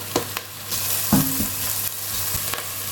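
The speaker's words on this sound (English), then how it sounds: "You just saute that for about 1 minute" Onions, ginger and garlic sauté in a pan while green amaranth is being prepared, with a steady low sizzle broken by a few scraping stirs of a utensil, close and moderately loud, with no talking.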